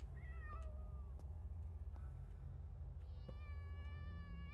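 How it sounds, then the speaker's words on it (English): Cats meowing in the Frightence horror game apartment, several drawn-out, overlapping meows and wails in succession over a constant low background hum, no speech. "it's so loud, the noises, the cat noises"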